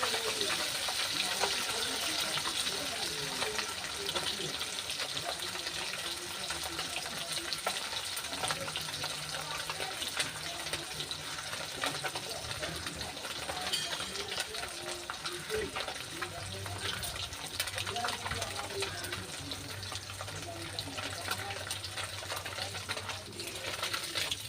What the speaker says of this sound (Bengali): মাছের এক পিঠ আমি ভেজে দিয়েছি, আর এক পিঠ উল্টে দিচ্ছি